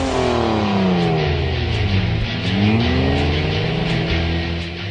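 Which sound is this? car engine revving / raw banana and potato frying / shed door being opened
car engine revving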